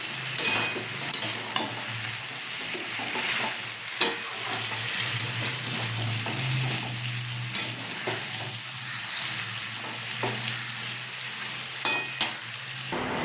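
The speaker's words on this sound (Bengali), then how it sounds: "মাংসটা দিয়ে এবার ভালো করে মিশিয়ে দেবো, যাতে মশলা সব মাংসের গায়ে লেগে যায়" Meat tossed with spices in a hot pan sizzles steadily, while a spoon scrapes and stirs in sharp intermittent knocks; close and constant, with no voices.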